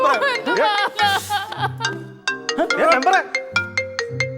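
A melodic phone ringtone plays repeatedly, its tune bright and steady, with short bursts of voices overlapping at the start and middle.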